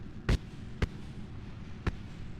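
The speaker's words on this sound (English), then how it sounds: "Those were fireworks." Fireworks-like explosions in Kerbal Space Program, three short sharp pops spaced irregularly over a low rumbling background, moderately loud and fairly close.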